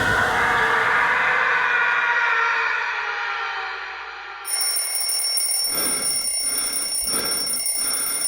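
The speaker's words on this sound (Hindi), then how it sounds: "घड़ी के अलार्म की आवाज से" A loud alarm clock rings continuously, a bright shrill tone that fades, then gives way to a steady high-pitched electronic beeping alarm with pulsing repeats.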